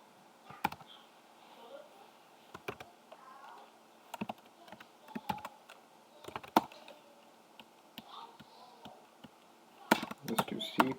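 Computer keyboard keys typed in short irregular bursts at moderate distance, with a quick cluster of clicks near the end, during a programming lecture; no voice in the clip.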